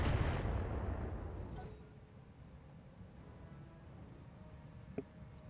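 Weapons fire at a gladiator mech in the RogueTech game, starting with a heavy, booming volley that rolls off into a low rumble, then a faint sharp impact near the end.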